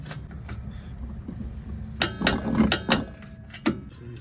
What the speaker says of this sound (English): Start working it in, and then we're gonna torque this one to 94 foot-pounds.